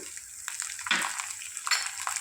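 Green chillies fry in hot oil in a pan while cooking pulihora tamarind rice, a soft, steady sizzle with brief louder crackles and stirring sounds.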